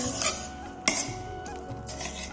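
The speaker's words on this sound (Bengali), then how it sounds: "এদিকে মশলাটা কষাচ্ছি" Spice paste for egg curry stirred and fried in a pan, a metal spoon scraping and clinking against the pan with one sharp knock, close, over a low steady sizzle.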